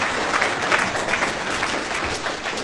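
Steady applause from a live audience at a talk on options trading, dense clapping filling the room for several seconds with no one speaking over it.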